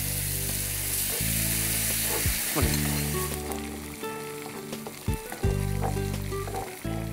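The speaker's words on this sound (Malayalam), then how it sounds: "ഇനി ഇതിലേക്ക് ടൊമാറ്റോ പ്യൂരി കുറച്ച് ഒഴിച്ചു കുറച്ചൊരു ഹാഫ് ഒഴിച്ചു" Tomato puree hits a pan of frying garlic and sets off a loud, steady sizzle that continues throughout, with a low electric hum underneath and a few scrapes of stirring.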